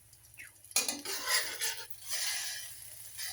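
Scrambled egg with cheese cooking in a pan at home, with utensil scraping and stirring clatter and a soft sizzle, fairly close and without talk.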